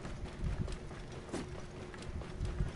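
Horse hooves clip-clopping at a slow pace, faint, irregular thuds close by over a low background rumble.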